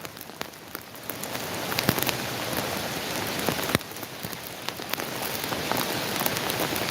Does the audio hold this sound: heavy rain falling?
yes